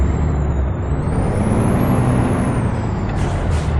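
Truck air brake in American Truck Simulator, a loud, sustained hissing rush of air over an idling diesel engine rumble that cuts off abruptly near the end, with no speech.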